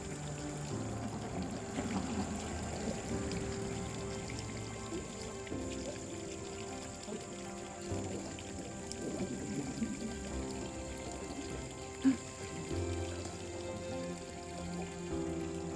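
Freshly divided lamb's ear plants are watered in their pots, a soft continuous pour and trickle of water running through soil, faint and close with small drips and no speech.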